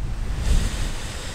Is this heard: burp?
no